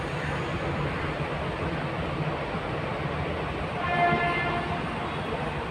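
A train rolls along a railway track below an elevated metro line, making a continuous rumble with a short horn blast near the end.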